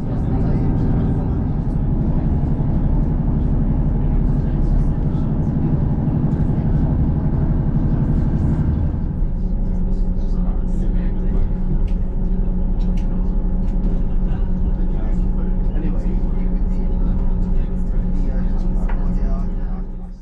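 Interior of a GWR Class 158 diesel multiple unit crossing the Dorset Downs, a steady loud low engine drone and rumble throughout, its pitch and texture shifting partway through.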